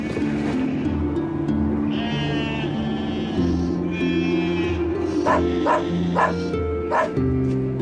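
A flock of sheep bleats steadily and loudly in a livestock setting, overlapping cries layered over one another, with a rapid run of sharper calls near the end that may come from a dog.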